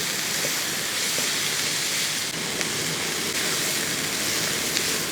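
Finely chopped vegetables sauté in a pan for a Kerala-style breakfast dish, producing a constant broad hiss of frying, even and close, with no talk over it.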